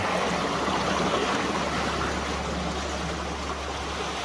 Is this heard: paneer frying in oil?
no